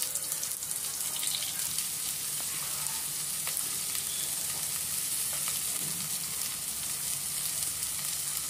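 Chopped onion sizzling in hot oil with cumin seeds, bay leaf, cloves, black pepper and cardamom for Lucknow chicken biryani, a steady close frying hiss with faint scraping, no talk.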